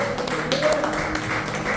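A church congregation claps in praise at a worship service, a dense, steady patter of many hands with a faint sustained tone underneath.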